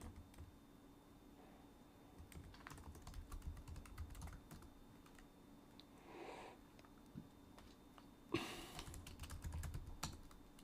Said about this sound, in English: I've been typing this in the codex interface